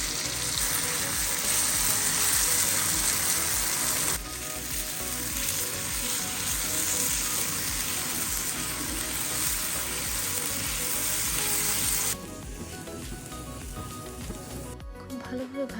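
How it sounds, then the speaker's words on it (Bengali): Chopped onion, chili, tomato and coriander leaves coated in spice paste fry in a wok, giving a loud, steady sizzle close by that shifts in intensity twice before easing slightly near the end. "এবার অপর একটি কড়াইয়ে পেঁয়াজ, মরিচ, টমেটো, ধনিয়া পাতাকে মশলা কুচি মাখিয়ে আমরা ভেজে নেব।"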